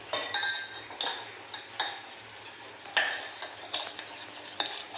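A spoon stirs a urad dal porridge mixture in a metal pot, giving light clinks and scrapes against the sides at an irregular pace, close and quiet.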